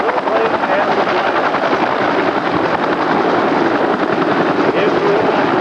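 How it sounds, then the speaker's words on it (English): A helicopter idles on the ground before departure at the Schenectady Air Show, a loud, steady rotor and engine roar that holds without a break. "our helicopter is now ready to depart"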